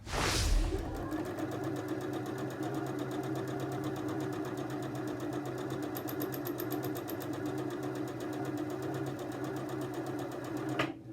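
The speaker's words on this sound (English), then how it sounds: "I'm going to sew another little edge stitch down the other side just so they match" A sewing machine runs an edge stitch on homemade fabric face wipes, a steady, close mechanical whir with a fast rhythmic needle chatter lasting the whole stretch.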